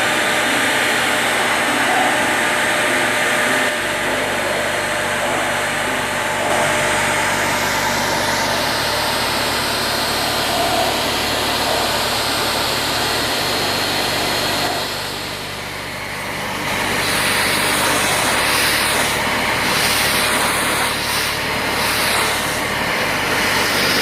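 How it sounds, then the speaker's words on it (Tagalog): A Deerma vacuum cleaner runs steadily throughout, sucking up cobwebs and dust with a loud, continuous motor drone that dips briefly midway, with no talking. "So kailangan nating i-vacuum yung mga alikabok na nandyan."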